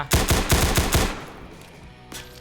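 Rapid burst of about eight sharp gunshots in CS:GO Roblox, loud and close, then a fading tail and one more distant crack near the end; no talk.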